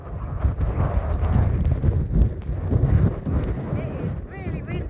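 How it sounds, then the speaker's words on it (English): Strong wind buffets a microphone outdoors on a wild day, a steady low roar with gusts, while a person talks over it throughout. "It's very windy, unfortunately"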